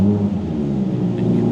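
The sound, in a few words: V10 sports car engine starting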